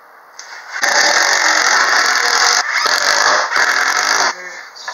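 Screws are driven into wood with a power drill on a foldable work table, three loud close bursts of motor whine separated by brief pauses, with no talk.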